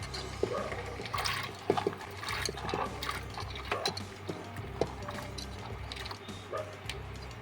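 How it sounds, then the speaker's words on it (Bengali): About 600 ml of water poured into a pot of hot oil while cooking ghugni with dried yellow peas, a continuous close splashing gush over a faint room hum. "এবার আমি 600 ml মতন জল দিয়ে দিচ্ছি"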